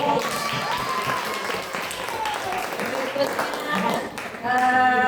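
Clapping in a classroom for a group of students, a broad wash of hand claps lasting several seconds beneath voices, with talk resuming clearly near the end.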